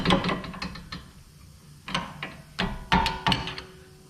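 A ratchet works on the 19 mm outer tie rod lock nut of a 2009 Honda CR-V, giving close clicking bursts and metallic clunks in short irregular strokes with brief pauses between.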